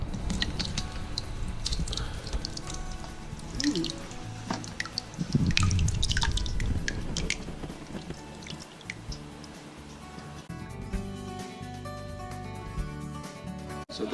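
Goat cheese curds slump into cheesecloth with a few soft wet plops, then whey drips and trickles steadily in quiet, close irregular drops, with faint background hum.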